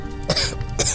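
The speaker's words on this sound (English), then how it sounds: "Killian chuckled to himself between coughs." A man gives two short, harsh coughs about half a second apart, close and fairly loud.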